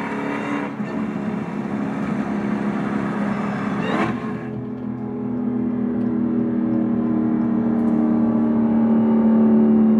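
A car engine roars steadily at close range, with a sharp rev-up early on before settling into a loud, sustained drone.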